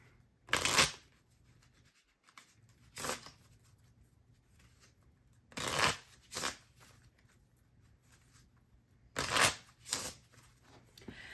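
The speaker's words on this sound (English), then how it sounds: "Okay, let's shuffle." Three bursts of playing cards being riffle-shuffled, each a quick crisp flutter followed by a softer second riffle, with quiet pauses between.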